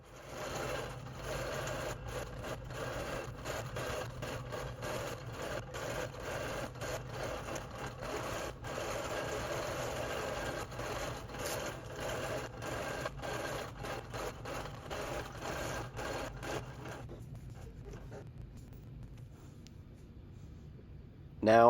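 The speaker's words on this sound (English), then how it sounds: "Now I'm going to sew the same thing on the right border" A computer-guided longarm quilting machine stitches the border of an Amish-style quilt with a steady, rapid mechanical hum and needle rattle that runs continuously, then stops near the end, leaving quiet.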